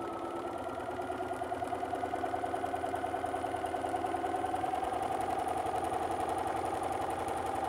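A sewing machine fitted with a walking foot stitching quilting lines across a quilt, a steady mechanical hum with rapid needle chatter running continuously and close.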